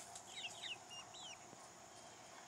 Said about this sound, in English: I need to show you the chickens.